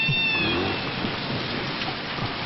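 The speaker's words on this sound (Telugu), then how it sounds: "వర్షం వస్తుంది కదా" Rain falls steadily in a soft, even hiss with no voices, plus a faint brief chirp near the start.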